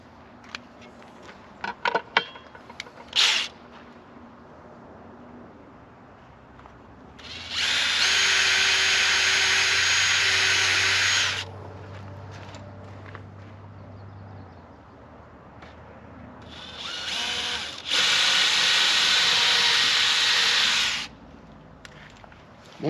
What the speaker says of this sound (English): I'm only drilling this so I don't crack the top.